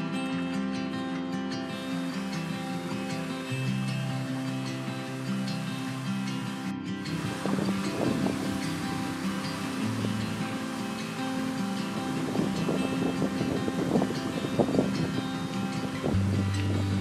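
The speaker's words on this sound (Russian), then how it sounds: "У нас начался большой ветер, видите, да, причем лобовой." A strong headwind rises over shallow water between reed beds during a spinning-rod fishing trip, starting as a rough broadband roar against the microphone after a tonal opening and staying loud and gusty to the end.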